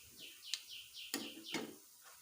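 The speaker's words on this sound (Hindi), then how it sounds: "इस पे चिड़ियाँ बहुत बैठी होती हैं। ये उनकी आवाज़ आ रही है आपको।" Sparrows chirp at an open kitchen window, a run of short, bright tweets and a few sharper calls spread over a couple of seconds. The calls sound moderately close and are heard alone with no talking.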